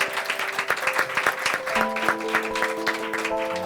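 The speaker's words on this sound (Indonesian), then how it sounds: "Mari kita berikan tepuk tangan yang meriah." Wedding guests at a holy matrimony ceremony break into lively applause, uneven bursts of clapping over sustained musical tones in a reverberant hall, fairly close and loud for a few seconds.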